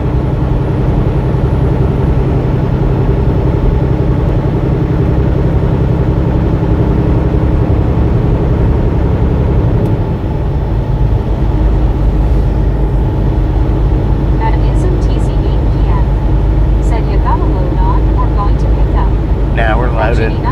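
A Kenworth T680 truck drives along an interstate haul, its heavy engine giving a steady, close low drone inside the cab that holds unbroken throughout.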